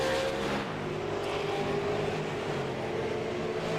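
Super Late Model race cars circle a track at a fall 2020 night race, a steady loud engine roar with no individual pass standing out, continuous throughout.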